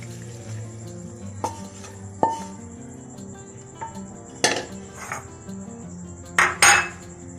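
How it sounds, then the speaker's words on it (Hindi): Ginger chicken being served from a cooking pan into a dish: scattered metallic clinks and scrapes of a utensil against the pan, some sharp and close, over a quiet kitchen background with no speech. "अब मैं इसको डिश आउट करती हूँ"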